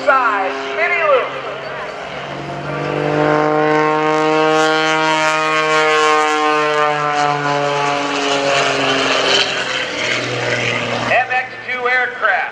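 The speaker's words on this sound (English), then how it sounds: "Watch the power of the motor as he does an outside spinny loop." The modified Lycoming engine of an MX-2 aerobatic propeller plane climbs and falls in pitch through an outside loop at an airshow, loud and sustained, with an announcer talking over it.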